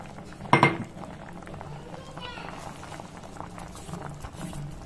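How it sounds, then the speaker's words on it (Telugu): Rayalaseema-style sambar, spiced with roasted cumin, fenugreek and curry leaf powder, simmers in a pot with a low, steady bubbling. One brief louder clink of metal or utensil sounds near the start. "బాగా మిక్స్ చేసి కాసేపు ఉడకాలండి. ఒక 10 మినిట్స్ ఉడకాలి."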